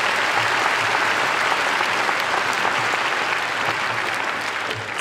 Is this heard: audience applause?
yes